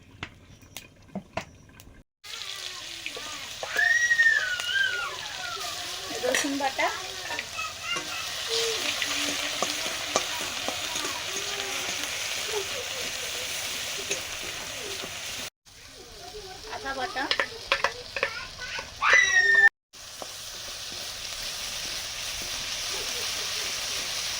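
Whole cumin seeds and dried red chilies frying in hot oil, a steady close sizzle with occasional stirring clinks, briefly interrupted by short silent cuts.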